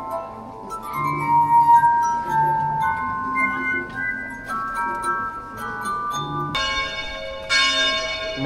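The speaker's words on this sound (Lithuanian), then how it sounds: "Matot, kaip varpai kviečia mus keliauti namo." Church bells ring in Venice, several bells tolling together with bright, sustained overlapping tones and a fresh clang joining near the end, heard from a moderate distance with no talking.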